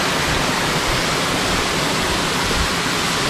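A waterfall rushes steadily in the woods near a trout stream, a loud, continuous broadband roar with no breaks and no voices over it.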